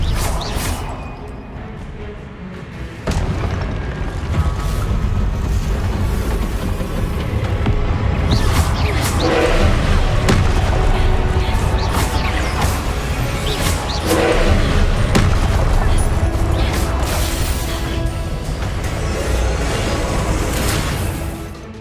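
Spell impacts during combat in the Hogwarts Legacy video game, a busy stretch of repeated booms, crashes and whooshes over a rumbling backdrop, with sharp hits scattered irregularly and loud throughout.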